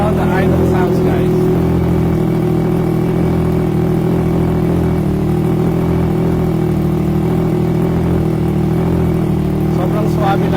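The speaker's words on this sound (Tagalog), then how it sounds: "So this is how the idle sounds, guys." A Triumph Trident 660 motorcycle with an aftermarket exhaust idles steadily and loudly up close, a constant low rumble throughout with faint voices in the background.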